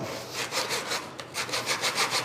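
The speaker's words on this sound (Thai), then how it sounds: "ผมก็ เลื่อยชิ้นที่2เลยนะฮะคือชิ้นล่างนะฮะตัวที่ถูกทับซ้อนอยู่นะครับ" A hand saw cuts through thin wood being made into guitar sides, a steady back-and-forth rasp of roughly ten strokes, close and even, with no speech.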